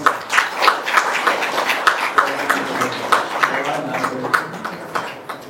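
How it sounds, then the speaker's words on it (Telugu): Audience clapping at an award ceremony in Ongole, a steady patter of applause that goes on for several seconds and then tapers off at the end. "Please clap please."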